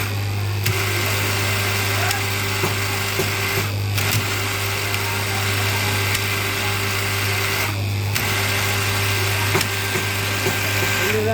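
A repaired electric cutting machine runs with a steady loud motor hum and whine, briefly dipping twice as if the load or switch changes, with faint background sounds.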